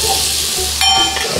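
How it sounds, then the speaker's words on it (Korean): Scallions and shrimp stir-frying in a hot pan, a loud close sizzle with a brief clatter of stirring partway through. "쪽파를 넣고 바로 새우를 넣겠습니다."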